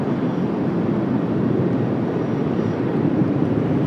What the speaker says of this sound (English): Comes that Gulfstream G450.